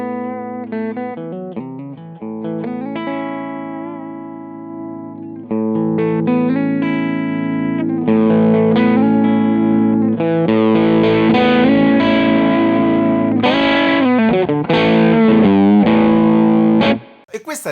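Distorted electric guitar played through a Torpedo Reload II amp attenuator, starting with sustained chords, then louder, denser strumming from about five seconds with compressed, driven tone and effects, ending abruptly; no talking.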